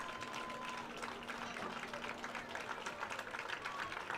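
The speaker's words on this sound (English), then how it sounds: "And Onalaska fans cheering on the boys." High school football fans applaud and cheer in an outdoor stadium after a varsity game. Moderate, steady crowd noise continues throughout, with commentators talking over it.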